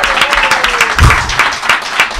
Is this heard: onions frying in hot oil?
no